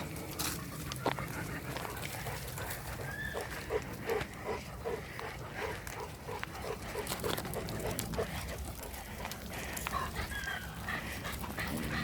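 Dogs pant nearby in quick, steady breaths, with occasional soft whimpers and small movement noises throughout.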